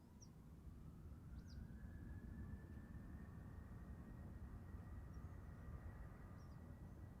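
An American Airlines airliner approaching Amsterdam Schiphol, a faint distant engine drone and rising whine holding steady over low rumbling wind, with a few bird chirps on top and no voices.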